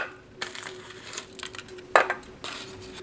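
Weathered, crumbling foil wrapping being peeled off an old survival ration chocolate bar from a 1976 life raft kit: close, crinkly crackling and crushing bursts, with a louder crunch near the middle and no talking.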